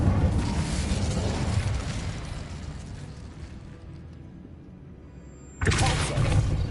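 An Incendio fire spell in Hogwarts Legacy, a sustained roaring whoosh of flame that slowly fades, then a fresh loud burst of fire near the end.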